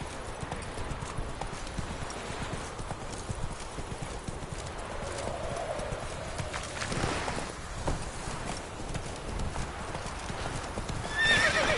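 Hooves of a horse in a video game clip-clop in a fast, steady gallop close up, with a whinny or neigh near the end.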